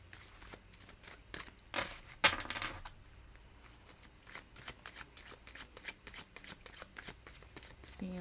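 An oracle card deck is shuffled by hand in a quiet room, with a rapid series of crisp riffling flicks and slaps repeating through the stretch, fairly close and clear.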